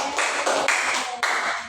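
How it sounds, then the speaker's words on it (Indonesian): Classmates in a fifth-grade maths lesson clap for a group, a steady burst of close, dense hand claps lasting a couple of seconds with brief dips in between. "Tepuk tangan untuk kelompok 2"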